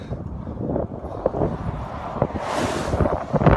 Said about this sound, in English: And it seems like every day I'm riding against the wind. Today's not so bad, only blowing at 12, 13 miles an hour.